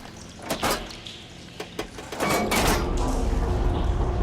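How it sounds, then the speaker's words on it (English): In Horizon Forbidden West, water flow is switched by in-game machinery. Several mechanical clunks and thuds come first, then a steady rushing water flow swells up and continues. "Seems like the water's switched."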